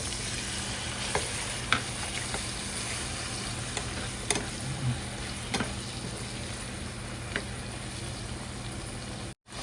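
Garlic and tomato fry in a pan in a Filipino dish, a steady close sizzle with occasional light stirring clicks and scrapes throughout, no talking.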